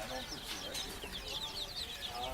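Bantam chickens cluck softly at a farm coop with quick, irregular clucks and chirps at moderate distance, joined by a faint background voice.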